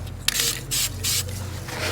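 Standard primer hisses from a spray can onto the rocker panel of a Jeep XJ during rust repair, coming in three or four short close bursts over a low background hum.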